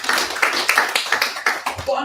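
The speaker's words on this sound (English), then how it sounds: "Let's give a round of applause." A short round of applause from a small audience at a talk or workshop, scattered hand claps over about two seconds, with some voices mixed in.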